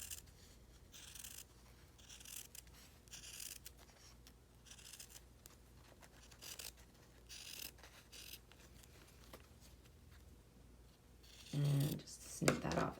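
Scissors snipping fabric around a Clover yo-yo maker, a series of quiet, close, rhythmic crisp cuts spaced about a second apart, with some louder handling at the end.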